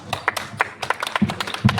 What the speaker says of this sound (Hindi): जोरदार तालियों से स्वागत किया जाए वसंत कुमार के लिए।